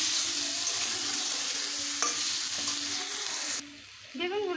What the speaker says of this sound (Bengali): বেগুনগুলো আমি ভালোভাবে ভেজে নেব।